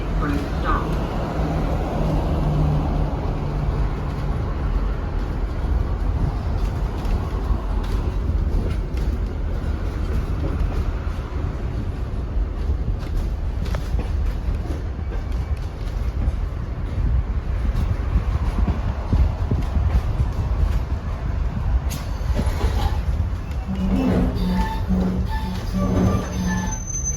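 Kuranda Scenic Railway train pulling away from Freshwater station, a steady loud rumble of wheels and coach noise throughout, with faint talk mixed in and a few brief squeals near the end.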